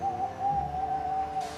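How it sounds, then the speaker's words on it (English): Owl hooting in a spooky night woods setting, a steady, sustained low hoot held for over a second, fairly loud and alone without talk. "An owl, said Monty."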